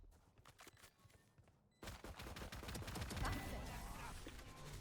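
Video game gunfire in the shooter ISO: a few faint shots at first, then a loud, sustained volley of rapid automatic fire that keeps rattling to the end.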